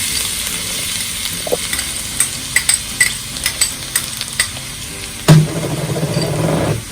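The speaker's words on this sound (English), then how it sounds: "we've got a preheated wok with the oil in it, and I'm going to add in the garlic" Garlic hits hot oil in a preheated wok and stir-fries with a steady close sizzle, broken by a series of sharp scraping clinks of the utensil against the metal and a louder burst of frying near the end.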